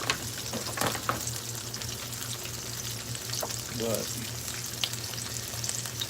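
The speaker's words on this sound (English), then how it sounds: "I would never ever go below 325 on anything when you're deep frying." Apple fritters deep-fry in oil at 325 degrees with a steady, close crackling sizzle and occasional louder pops, and a voice speaks briefly over it.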